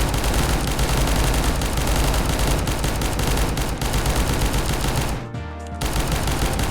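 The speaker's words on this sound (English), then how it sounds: "I guess let's try this revolver." A revolver is fired in rapid succession in a video game, a dense, loud, continuous volley of shots that breaks off briefly near the end before resuming.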